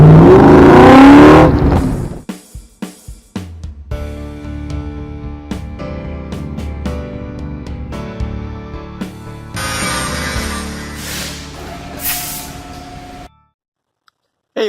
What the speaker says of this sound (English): Today we are dustless blasting.